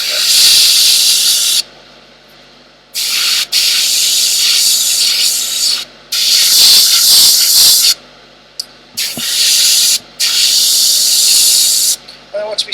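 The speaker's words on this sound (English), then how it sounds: "When I want to be slightly more accurate with my airbrush, I bring it closer into the subject." Airbrush spraying paint onto a miniature's black armour, loud close hissing bursts of air repeating in several long sprays separated by short silent pauses.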